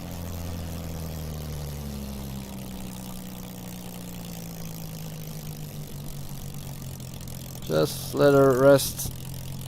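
A damaged Spitfire L.F. Mk IXc engine in a VR flight simulator drones steadily at a low idle-like pitch, fading slightly, with a person speaking briefly near the end.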